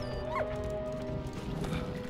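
A dog in the video game Valiant Hearts gives a brief, high whine or yip near the start, set against steady game music that continues throughout.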